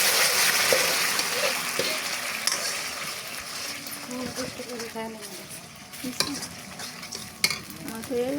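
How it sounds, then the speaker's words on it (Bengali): Pumpkin chutney being tempered in a little hot oil and stirred, giving a steady close sizzle with scraping stir strokes and occasional clinks throughout. "আমি সামান্য একটু তেল দিয়ে দিতেছি টক বাগানোর জন্য।"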